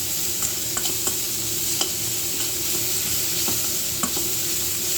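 Salt stirred into a sautéing mix in a pan for a Tamil banana-flower and lentil dish, with a steady close sizzle and light, irregular spoon scrapes over about five seconds.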